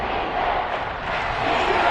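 A football stadium crowd roars and cheers ahead of a big third down, a broad, loud, sustained wash of voices with no single speaker standing out.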